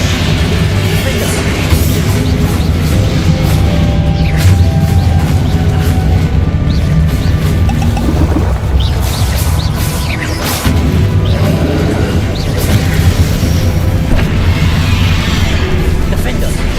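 Spell-casting blasts and explosions from the Hogwarts Legacy video game: loud booms and crashes follow one another over a steady low rumble, with a voice calling spell names throughout.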